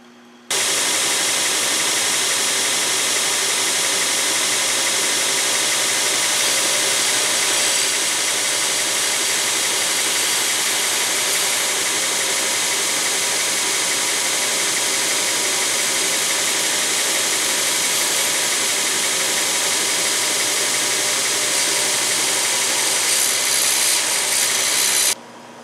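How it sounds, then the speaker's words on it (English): Belt sander shaping the blade of a wooden prop knife, a continuous loud motor whir with steady abrasive grinding throughout, nearby, no talking. "we're going to finish it out on the knife making machine, aka belt sander, and then put an edge on it"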